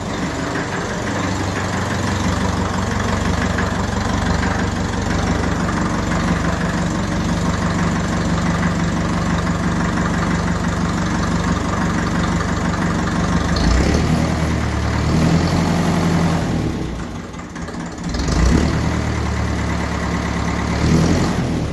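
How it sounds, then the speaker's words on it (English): A 1954 Ferguson 20 TEF diesel tractor with a Lucas dynamo idles steadily up close, a low continuous chug with a brief dip and small rev near the end. "when I was bringing this tractor back into the shed, I gave it a little rev"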